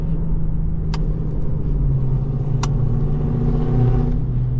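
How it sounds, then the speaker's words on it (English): A Ford Mustang engine roars steadily while accelerating from about 40 to 50 mph, with a deep rumbling growl, loud and close, with a couple of sharp clicks over the drone. "Mustang loud as hell."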